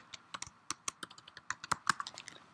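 Password typed on a computer keyboard, a quick irregular run of about twenty light key clicks over a couple of seconds, close and fairly quiet with no talking.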